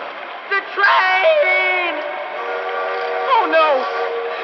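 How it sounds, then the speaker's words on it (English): Train whistle blasts from an approaching train in the Fallout 76 video game, sounding in long sustained tones with bending pitch over a steady rumble, loud and close. "Train's coming! The train!"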